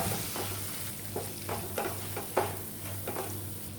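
Dry spices and crushed peanut powder frying in oil, a steady soft sizzle with occasional scraping stirs of a spatula in the pan, quiet and close, no voices.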